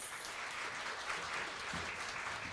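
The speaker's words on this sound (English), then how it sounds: "Let's give her another round of applause." Steady applause from an audience at a speech-language pathology assistant pinning ceremony, continuous and fairly even for the whole stretch, with no voices standing out.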